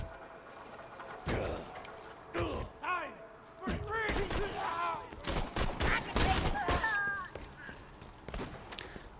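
Gunfire from the looter-shooter Borderlands 2, played as Salvador: scattered heavy shots and thuds burst out in irregular clusters while someone talks steadily over the action.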